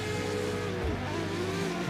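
Drift cars in a sim-racing game at Pukekohe Park Raceway, a steady, loud engine drone with a sliding tone and a brief dip near the middle, continuous throughout.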